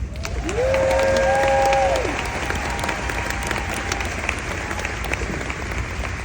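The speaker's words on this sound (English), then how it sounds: "Would you give our unit a round of applause?" An audience applauds a unit at a speech event, steady clapping that fills the clip. A brief tonal voice-like sound rises over the start before the clapping carries on alone.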